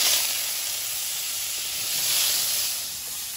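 Potatoes dropped into hot oil in a kadai sizzle with a loud, steady, bright hiss that swells slightly midway and carries on alone without talking.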